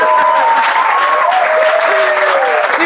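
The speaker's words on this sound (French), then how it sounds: "On a couru, on peut applaudir très fort." An audience at a Bible quiz applauds a winner with loud, steady clapping, while a voice carries over the top throughout.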